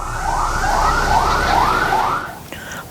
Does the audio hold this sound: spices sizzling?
no